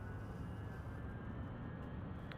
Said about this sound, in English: get our helicopter spinning up here.